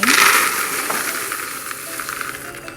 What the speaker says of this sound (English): First of all, you put the Chex Mix in.